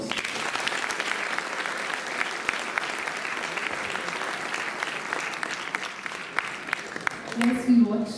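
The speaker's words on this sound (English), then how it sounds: "Please give the actors a huge round of applause." An audience at a university World Theatre Day celebration gives the actors a full, steady round of applause that holds dense and even for several seconds, with a voice briefly surfacing near the end.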